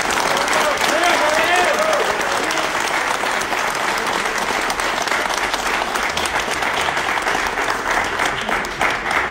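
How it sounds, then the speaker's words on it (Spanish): A large audience breaks into loud, sustained applause for a man named Javier Bravo, dense clapping holding steady for several seconds, with a few voices briefly rising above it near the start. "para quien pido un fuerte aplauso"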